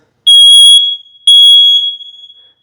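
A new smoke detector under test gives two loud, piercing electronic beeps about a second apart, each tone held briefly and then cut off, with silence around them.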